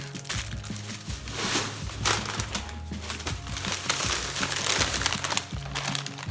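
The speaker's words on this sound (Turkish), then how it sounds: "düzgülü çöp poşeti aldık." Plastic garbage bags from a Bim discount store being handled at home, giving continuous close crinkling and rustling with scattered sharp crackles throughout.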